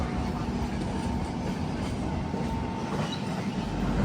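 An express train, the Trivandrum–Jammu Rajdhani, rumbles steadily along the rails after leaving Panvel, a continuous low roar with faint rattling, heard from inside a first AC coach and loud throughout.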